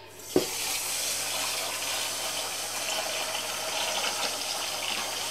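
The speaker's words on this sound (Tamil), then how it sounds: "நல்லா கழுவிட்டு ஊற வச்சிடணும்." Rice being washed under a running kitchen tap before soaking for an Arabian-style chicken kabsa, a continuous close rush of water after a brief knock at the start, with no voices.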